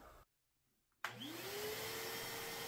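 A vacuum cleaner drives a player piano's air motor, first running, then briefly silent, then starting up again with a rising whine that settles into a steady, close roar.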